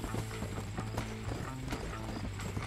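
Rapid rhythmic hoofbeats of a galloping horse in the video game Red Dead Redemption, steady and fairly faint, with a soft mechanical backdrop.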